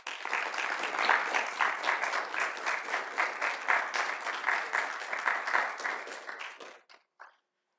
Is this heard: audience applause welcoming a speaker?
yes